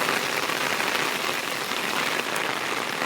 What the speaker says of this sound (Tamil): இப்போ பார்த்தீங்கன்னா ஃபுல் ரெயினு.